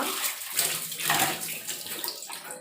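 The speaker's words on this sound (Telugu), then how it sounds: "నేను ఎప్పటికప్పుడు హ్యాండ్ వాష్ చేసుకుంటూ ఉంటాను." Tap water runs steadily at close range while hands are washed, a broad hiss with small splashing changes and no voices.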